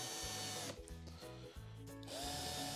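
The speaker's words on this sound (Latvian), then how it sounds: "Skrūvējam iekšā." A power screwdriver drives a screw in, its motor whine rising and dropping in a few short stop-start bursts, loud and close, with no talk.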